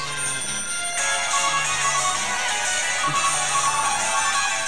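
A phone ringtone melody from the horror video game Calling plays as a steady, dense electronic tune with a bright, sustained tone throughout and no talking over it.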